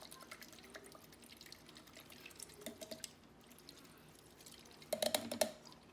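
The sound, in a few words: makeup brush spinning in cleaning liquid in a bowl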